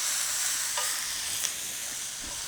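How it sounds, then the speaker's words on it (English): Food sizzling steadily in a hot pan while a single stir works seasoning and pepper through it, a soft scrape over a constant close-up hiss. "we're gonna give it one little stir"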